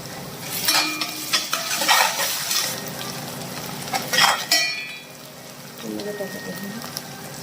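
Green chili paste hitting browned onions in a hot pan sizzles and spatters with bursts of stirring and scraping, close by, easing to a quieter hiss near the end.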